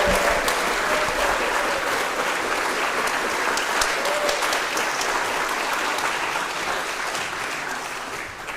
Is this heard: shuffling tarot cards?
no